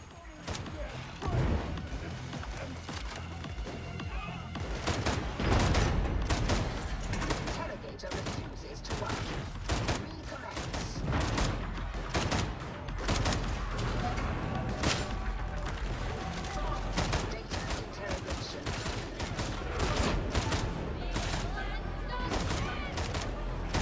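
Video game gunfire in Warhammer 40,000: Darktide, rapid volleys of sharp shots and bursts repeating throughout, loud and close amid game noise, with a voice narrating in places.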